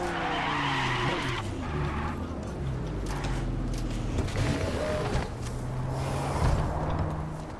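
A rear-wheel drive sports car skids in Cyberpunk 2077 with a sustained tire squeal over a steady, loud engine drone that holds for several seconds at close range.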